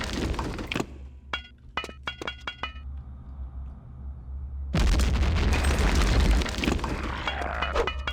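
A grenade going off in the 2001 shooter game Return to Castle Wolfenstein: a few sharp metallic clicks and clinks, a short lull, then a loud, heavy blast that rumbles on for several seconds.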